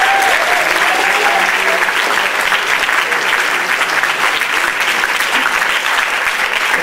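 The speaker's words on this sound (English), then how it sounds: "Give a big round of applause for them." Sustained, loud audience applause at a Cambridge Malaysia Night 2006 event, dense steady clapping filling the whole stretch with a faint crowd murmur beneath.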